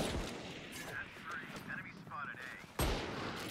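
Gunfire from a video game deathmatch, loud overlapping shots and bursts near the start with a sharp report near the end, game effects and faint chatter in between.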